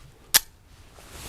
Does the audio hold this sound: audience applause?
no